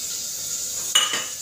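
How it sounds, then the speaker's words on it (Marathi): Chopped tomatoes dropped into onions browning in a pan for Maharashtrian masala bhat, a sudden short sizzle and clatter over a steady hiss of frying. "तर मी याच्यातच टोमॅटो टाकते।"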